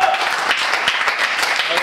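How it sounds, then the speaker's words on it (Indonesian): Church congregation applauding and cheering, a dense, loud wash of clapping and voices filling the room throughout. "Berikan sorak-sorai buat Tuhan."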